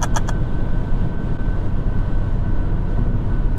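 A supercharged R53 Mini Cooper engine drones under acceleration, a loud, sustained low roar from inside the car with a faint whine, preceded by a few brief clicks.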